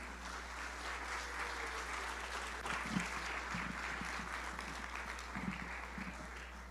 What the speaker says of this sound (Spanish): Les pido, por favor, que le brinden un fuerte aplauso